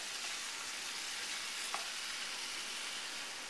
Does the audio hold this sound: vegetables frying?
yes